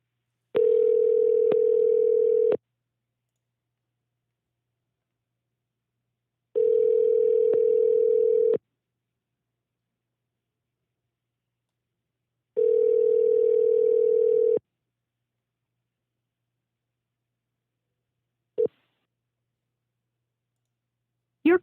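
A telephone call rings out on the line, three evenly spaced long ring tones about four seconds apart, followed by brief clicks as the call is forwarded to voicemail.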